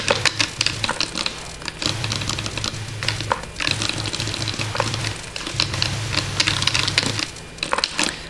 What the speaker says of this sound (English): We are back to keyboard noises, or not keyboard noises, button presses.